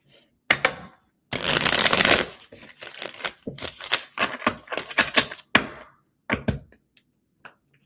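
Tarot cards are shuffled by hand in bursts: a long riffle, then a quick series of sharp flicks and taps of cards against each other, close and crisp, with short pauses between.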